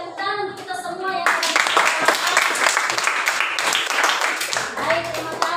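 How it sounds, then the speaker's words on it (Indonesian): Classroom applause from children, a steady burst of clapping right after a voice at the start, loud and close throughout. "Tepuk tangan untuk kita semua ya."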